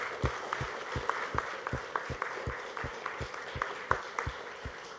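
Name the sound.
audience applause for the HRX heroes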